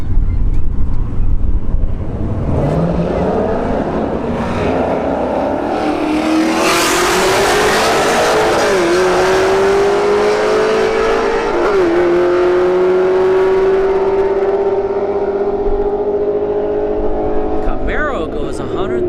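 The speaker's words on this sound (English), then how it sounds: "another S197 Mustang, but it's got a Roush emblem and a Camaro in the left lane" Roush S197 Mustang and a Camaro drag racing side by side, engines revving hard with rising pitch sweeps and gear-change dips, loud and close, with a commentator talking over them.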